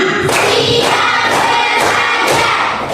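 A classroom of children claps together in a counted rhythm, several loud, evenly spaced bursts of group clapping up close, with a lively crowd feel and no speech.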